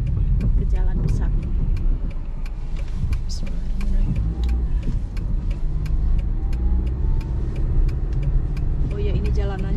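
A car driving on a slick road and turning onto a main road, with a steady engine and road rumble throughout and a driver talking over it.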